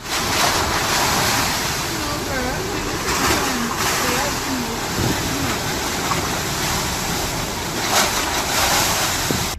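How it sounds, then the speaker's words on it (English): Hurricane Dorian's wind roars and waves rush continuously on a home's roof in Freeport, Bahamas, loud and close with heavy wind buffeting the microphone. "Take notice of the wind and rush of the waves."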